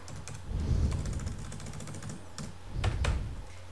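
Rapid typing on a computer keyboard while working on a point-of-sale system, with bursts of close, crisp key clicks that pause briefly and then resume, with no talking.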